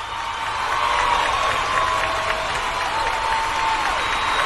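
Broad, even applause and crowd noise from an audience at an Age of Empires II Titans League esports match, a steady wash of clapping with light cheering and no clear separate claps.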